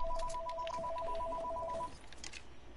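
A steady electronic telephone ring with two tones trills for about two seconds, then stops, over game background noise and faint distant voices.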